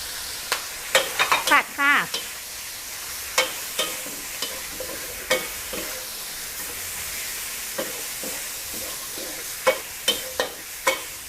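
Drunken squid stir-fried in a pan with basil, torn kaffir lime leaves and green peppercorns: a soft background sizzle broken by repeated sharp spatula scrapes and clacks against the pan, irregular and close.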